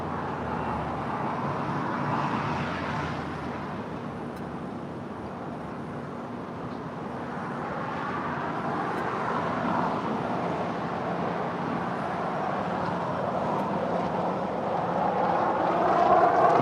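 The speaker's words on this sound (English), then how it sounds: "Turkish Airlines Flight 8 Mike Tango coming in from Istanbul, 787-9 Dreamliner, about to touch down at 24 right there on the north side" A Turkish Airlines Boeing 787-9 Dreamliner arriving from Istanbul comes in to land on runway 24R at LAX, a continuous broadband jet roar that holds steady and swells slightly louder toward the end as it nears.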